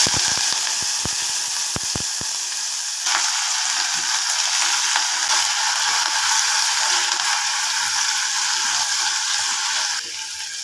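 Drumstick leaves and mustard seeds fry in hot oil in a pan, giving a steady, close, hissing sizzle throughout. A few sharp pops and clicks stand out near the start.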